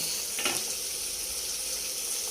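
Green chillies fry in hot oil with a steady, close, bright sizzle and faint popping throughout, with no voices.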